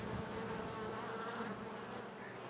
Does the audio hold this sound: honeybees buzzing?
yes